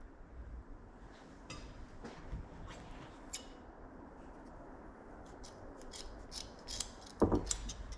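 Scissors snipping through boat carpet, a series of short crisp cuts and rasping scrapes spread irregularly over several seconds, close and quiet, with a louder burst of cutting near the end.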